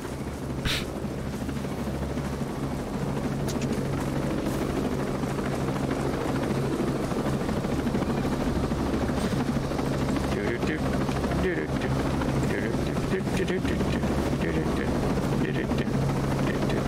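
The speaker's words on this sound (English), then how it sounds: "Well, we've got a helicopter." Helicopter in a combat video game set against Russians, a loud continuous rotor drone with a steady low hum that persists throughout alongside other game sounds.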